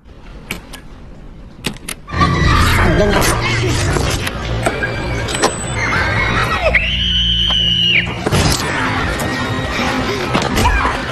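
People in Squid Game scream in pain amid chaotic noise during a dark night attack on the participants, with a sustained wailing cry standing out partway through over a loud, dense background.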